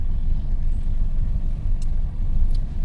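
A car creeping along on the clutch alone during a first driving lesson, a steady low engine and road rumble from inside the cabin, continuous and fairly loud, with a couple of faint high clicks.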